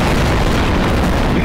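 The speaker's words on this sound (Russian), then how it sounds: "Давай вот эту взорвем бомбу." A bomb detonates in the video game Garry's Mod, producing a loud, dense roar that fills the whole moment with steady rumbling blast noise.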